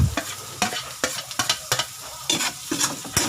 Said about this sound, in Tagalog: Halo na rin natin yung bawang.